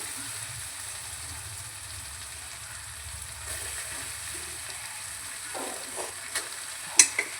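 Food is stirred in a pan just before rice goes in, a steady soft sizzle with scraping movement, followed by a few sharp utensil clinks toward the end.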